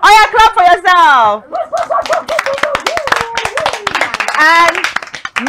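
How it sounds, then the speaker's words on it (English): A burst of quick hand claps from several people, sharp and close, mixed with bright excited children's voices and chatter. "clap for yourself"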